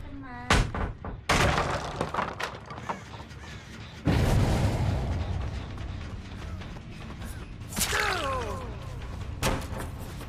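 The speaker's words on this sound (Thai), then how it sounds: "เครื่องระเบิดรัวๆ" Generators blow up in Dead by Daylight with sudden loud booms and thuds. Rumbling game noise and voices sit between the blasts.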